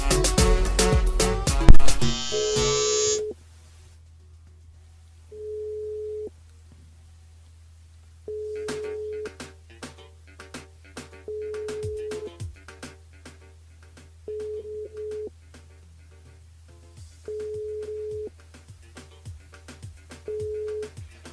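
A telephone rings out over and over on a live radio call-in show, a steady series of evenly spaced electronic tones with short gaps between them, after a burst of loud noise at the start.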